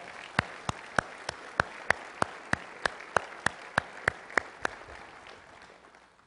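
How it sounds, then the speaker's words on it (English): An audience applauds at an annual real estate industry keynote event in New York, heard as a steady run of close, evenly spaced sharp claps over a soft crowd wash, with no talking. "Let's give him a big round of applause."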